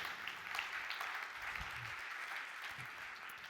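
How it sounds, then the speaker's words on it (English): Steady applause from a conference audience for a senior data scientist at an industrial data analytics talk, a continuous even patter lasting a few seconds with no voices over it. "So please give a round of applause to Gerhard."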